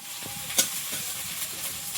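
Ginger garlic paste fries in a pan with a constant close hiss and one sharp crackle, brief and continuous.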